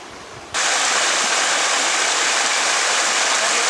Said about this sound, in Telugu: కొండ పైభాగం నుంచి కిందకి వాటర్ రావడం.